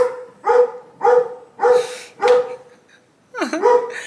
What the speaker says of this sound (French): Il y a une raison d'aboyer là?